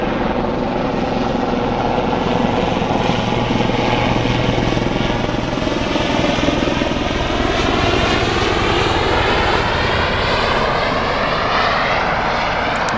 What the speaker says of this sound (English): Noisy thing, helicopters, aren't they? Fighting to stay in the air.